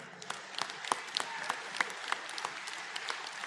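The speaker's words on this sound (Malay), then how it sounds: "kita bagi tepukan gemuruh kepada ayahanda kita" Audience clapping at the UMNO Youth general assembly in Malaysia: a fairly quiet, steady patter with distinct sharp individual claps popping out of the crowd's applause.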